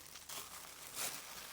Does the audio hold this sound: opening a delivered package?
yes